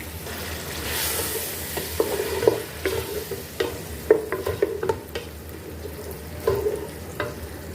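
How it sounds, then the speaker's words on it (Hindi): Keema with bitter gourd and chopped tomatoes frying in a pan, giving a steady close sizzle broken by scattered spatula scrapes and taps, with no voices. "अब इसको भी हम फ्राई कर लेंगे।"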